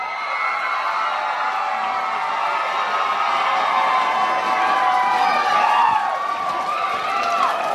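A large crowd at the Jack & Jill O'Rama 2019 West Coast Swing dance competition cheers loudly and continuously, with shouts, whoops and high-pitched screams rising together, and a voice calling out through the noise.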